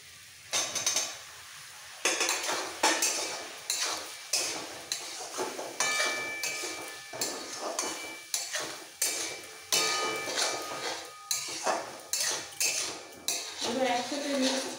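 A utensil scrapes and clanks rhythmically against a pan while a chutney of ripe jujubes and softened tomatoes is stirred, with repeated close metallic strokes and a light sizzle underneath.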